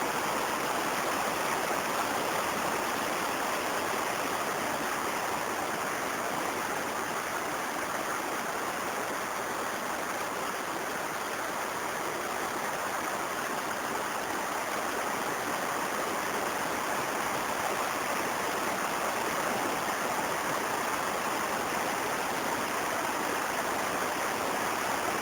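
The Velička river flows as a loud, continuous broadband rush of water with no breaks or variation, heard close and alone throughout.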